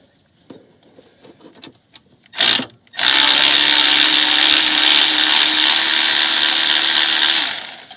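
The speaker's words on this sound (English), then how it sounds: "A regular socket wrench you actually can get in there. This is an electric one because I'm lazy." An electric socket wrench loosens an alternator bolt on a Mercedes W163 ML, a few light clicks and a brief buzz, then a loud, steady whirring motor run of about four seconds before it winds down.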